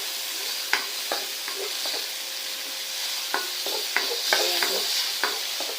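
Tomatoes sauté in a pan while being stirred for pork monggo, with a steady low sizzle broken by a run of sharp spoon-and-pan scrapes and clacks, and a brief spoken word.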